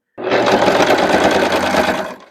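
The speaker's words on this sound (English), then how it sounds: "I'm going to sew all the way down" A sewing machine runs a straight stitch down a doll skirt seam, a loud, close, continuous rapid whirring for about two seconds that stops abruptly, with no talk.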